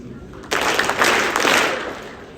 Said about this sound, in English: please recognize them with 3 big claps.